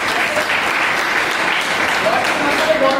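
Loud, dense applause from an audience at a business plan seminar, continuous clapping filling the whole stretch at close, strong volume with some crowd murmur underneath.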